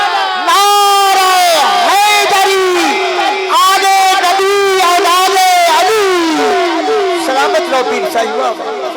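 At an Eid al-Ghadir religious gathering, a large crowd answers the Nara-e-Takbir slogan with loud, rhythmic shouts chanted in unison, sustained and close throughout.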